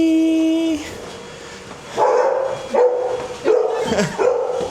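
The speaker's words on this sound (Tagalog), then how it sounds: "May naririnig na ako ng tahol ng golden retriever" Several golden retriever barks ring out in quick succession, loud and fairly close, following a brief high-pitched whine.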